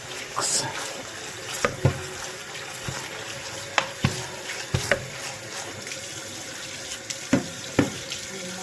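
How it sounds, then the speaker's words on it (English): Tap water runs steadily into a kitchen sink as cooked spaghetti is rinsed, a constant close hiss broken by scattered clanks and knocks of handling, with faint background voices. "you're just going to want to just sift water through them"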